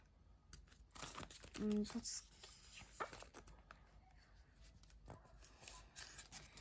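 Plastic packaging of an AliExpress screen protector for an iPhone 14 being handled and opened, with close crinkling and rustling bursts, under occasional quiet talk and a dog faintly whimpering.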